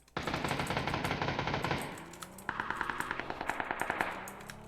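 Sustained automatic gunfire in a video game, one long rapid burst followed by a pause and then a second rattling stream of shots, loud and close with no voices.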